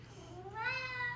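A pet cat gives a single rising meow, short and fairly close, over a low steady background hum on a snowy morning.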